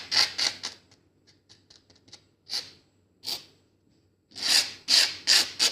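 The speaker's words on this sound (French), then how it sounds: "le bruit que vous entendez, c'est moi qui est en train d'étaler le sable pour le mettre dans tous les endroits" Coloured sand spread by hand across a sand-art card, soft scratchy rubbing strokes coming in short bursts with quiet gaps, close and fairly faint, no talk.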